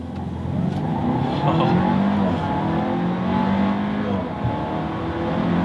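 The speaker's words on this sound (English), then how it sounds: "let me do a quick little 0 to 60 time here. Quick little acceleration." A 2016 Audi A4 accelerates hard from 0 to 60 in dynamic mode, engine note climbing and swelling steadily, heard from inside the cabin with no talk.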